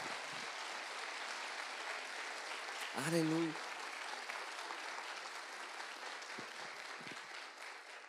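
A church congregation claps at a Pentecost Sunday morning service: an even, continuous wash of applause throughout, with one voice briefly calling out above it midway.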